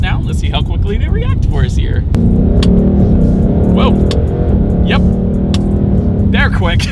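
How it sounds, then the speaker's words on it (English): A 2020 Ford Mustang GT engine roars loudly as the car accelerates under paddle-shifter gear changes, with one clear shift around two seconds in before the revs climb again, and a voice may be talking over it. "let's go ahead and do the paddle shifter test now"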